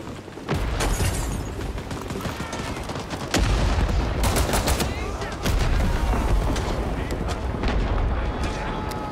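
A bomb explosion and gunfire fill an online shooter game: rapid bursts of shots and booming blasts come thick and fast, near and loud, while a player talks over the din.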